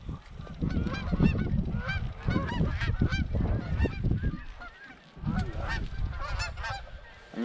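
Large geese honk loudly and continuously during a rainy-day goose hunt, a dense overlapping flock chorus close to the hunting blind, with a brief lull partway through before the honking resumes.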